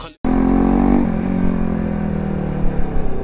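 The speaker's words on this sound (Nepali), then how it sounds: "यो इन्जिनबाट अलिकति साउन्ड आए जस्तो लाग्यो" A Bajaj Pulsar NS200 motorcycle engine at 12,000 km with a suspected engine noise problem, running steadily and loud close by after a brief cutout, with a continuous drone and faint clatter.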